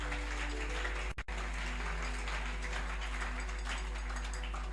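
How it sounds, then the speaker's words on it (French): Congregation in a church service applauding for the Lord, steady dense clapping from a large crowd with a constant low hum underneath and a brief dropout. "Acclamons encore pour le Seigneur."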